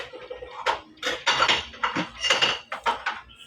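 Dirty dishes and plates being washed by hand at home: close, irregular clinks and clatters of crockery and cutlery with splashes of water, no voices.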